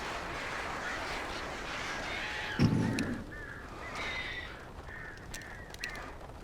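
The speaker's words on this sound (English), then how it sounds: "Birds." Crows caw repeatedly in the Alan Wake video game, a string of sharp harsh calls after a thump, spaced irregularly over a steady ambient background hum.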